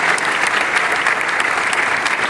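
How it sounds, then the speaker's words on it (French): An audience applauds continuously, a dense, steady patter of many hands clapping at moderate loudness from start to finish. "je vous invite à l'applaudir"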